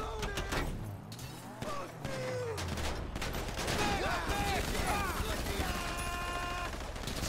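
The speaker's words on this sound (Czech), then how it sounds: "A tady vidíte, že střílí fakt hodně zblízka" Bursts of gunfire in GTA V Online on PS4 crackle at close range, rapid repeated shots layered with game effects and clattering impacts, while someone talks over the action.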